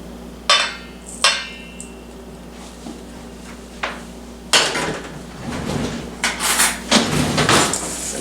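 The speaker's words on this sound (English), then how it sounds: "So we're stirring this up with a fork." Fork scraping and clinking through crushed cookie crumbs and melted butter in a bowl for a peanut butter cheesecake crust, a few sharp knocks and then busy, continuous stirring.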